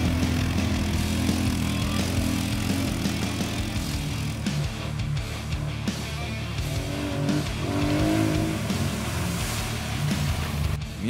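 A Bison 4x4 ATV struggles through summer mud, its engine droning loudly and revving unevenly at close range as it labours, with no voices.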